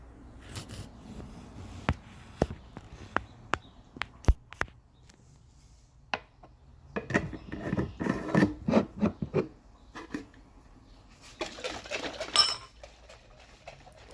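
A flour mixture for harira, a Moroccan soup, is stirred by hand in a bowl, producing irregular scraping and clinking taps of a utensil against the bowl, with a burst of faster rubbing stirs in the middle, close and moderately quiet.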